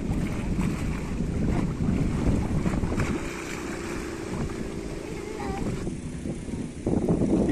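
Strong, steady wind roars across the microphone throughout, with gusty buffeting and a brief faint whistle; a voice speaks faintly in Russian underneath, at a park during Amur River flooding in Khabarovsk.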